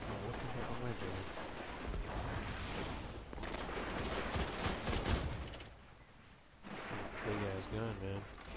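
Heavy gunfire rattles in the Destiny video game, bursts of rapid shots and blasts coming in waves with brief lulls, while players talk excitedly over the shooting.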